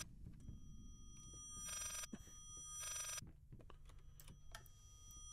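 A telephone ringing in the horror video game Layers of Fear, two bright rings, each about a second long, sounding over a low murky ambience with scattered faint clicks.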